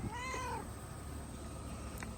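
A single drawn-out cat meow sounds close by at the start, followed by quiet background hum.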